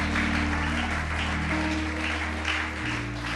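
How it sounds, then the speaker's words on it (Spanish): A church congregation applauding during a sermon, a dense, continuous wash of clapping under a sustained low organ or keyboard drone, loud and even throughout. "Aplaude al Dios que vive."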